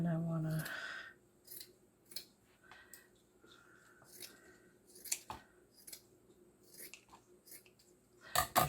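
Scissors snipping through fabric in a series of short, crisp cuts with pauses between them, fairly close and with no talking.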